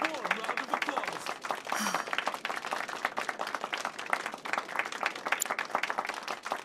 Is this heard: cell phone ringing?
no